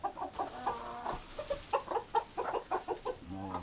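Hens and a rooster clucking in a new chicken coop, close by and fairly loud, a run of short repeated clucks and calls with brief pauses between them.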